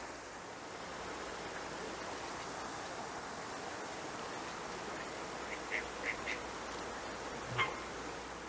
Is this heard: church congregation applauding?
no